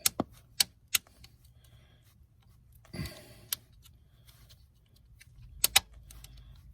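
Stiff plastic isolator forced onto a side step stud of a 2015–2020 Ford F150 while installing Westin Outlaw side steps: sharp close clicks and snaps scattered across a quiet background, with a brief rougher scrape in the middle.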